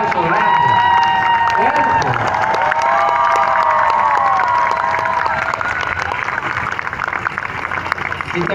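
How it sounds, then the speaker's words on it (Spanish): A large crowd of young pilgrims at a World Youth Day gathering applauds and cheers loudly and continuously, with shouts and whistles rising over the clapping before it gradually thins out. "Un aplauso grande."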